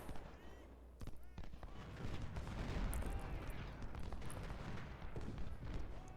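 Musket volleys and artillery from an American Civil War battle at First Bull Run in the game Ultimate General: Civil War form a faint, continuous crackle of distant gunfire with occasional heavier booms.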